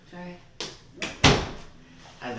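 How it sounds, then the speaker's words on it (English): A door shuts with a few sharp knocks and one louder thud near the middle, close by, amid people talking. "Close the door."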